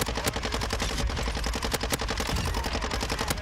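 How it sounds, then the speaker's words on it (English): Machine gun fire from the video game Modern Warfare 2 rattles in rapid bursts, dense repeated shots hammering close and loud with brief gaps between volleys. "My enemies deserve nothing but respect and dignity as I litter their bodies with bullets."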